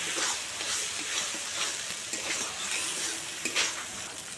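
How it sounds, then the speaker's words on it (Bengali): Fried potato pieces cooking down with masala and salt in a pan for a cauliflower curry, a steady sizzle and fry broken by repeated scraping stirs of a spatula, close and continuous with no talk. "এবারে আলুগুলো মশলার সঙ্গে আরও কিছুক্ষণ আমি কষিয়ে নেব"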